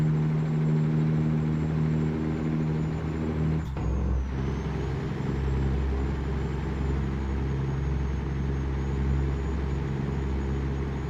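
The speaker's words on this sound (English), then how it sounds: "Engine brakes were originally designed for downhill braking assist, so you don't cook your brakes." Steady low rumble of a truck engine brake while cruising on flat road, a continuous droning roar with a brief dip and shift partway through, no voices.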